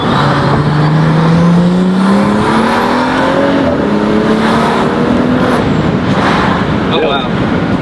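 A modified BMW 435i Gran Coupe with a Stage 2+ tune, downpipe and intake accelerates hard, its exhaust roaring loudly from inside the car and rising through the gear, with a voice speaking briefly.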